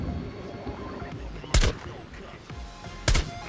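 Gunfire in Rainbow Six Siege on PS4: two sharp, loud single shots about a second and a half apart, each a punchy close burst over a low ambient game background.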